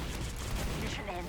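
Frag grenades spammed in a Team Fortress 2 competitive match, a dense barrage of explosions and gunfire roaring together without a break under an excited voice.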